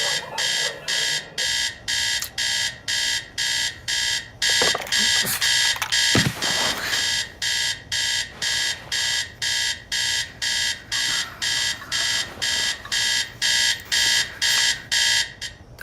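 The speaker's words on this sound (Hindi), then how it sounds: "अलार्म नहीं बंद होता तुझसे?" An alarm clock rings in rapid repeated beeping bursts, loud and steady throughout, with a brief knock or clatter partway through and no talking.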